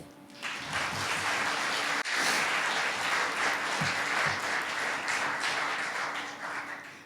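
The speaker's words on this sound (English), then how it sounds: "Let's have another round of applause" A large audience applauds after a youth oratorical speech at a Martin Luther King Jr. contest in Columbus, a dense, steady wash of clapping filling the hall for several seconds before tapering off.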